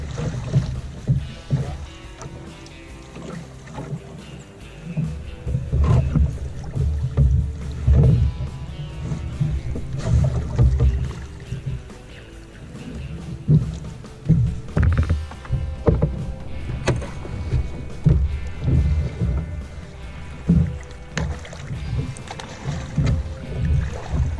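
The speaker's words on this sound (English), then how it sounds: "Think we try paddle again?" Paddling a canoe on Opeongo Lake, with rhythmic splashes and water swishes from repeated strokes, fairly close, set against a low background of wind and water over about twenty seconds.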